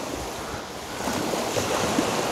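Sea waves wash onto a pebbly shore with a steady rushing wash and some wind noise, swelling slightly partway through, with no voices.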